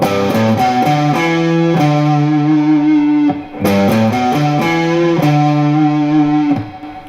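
A distorted electric guitar plays a short lead phrase in second position in the lower octave, with clear sustained single notes in a repeating pattern, loud and close with no talking.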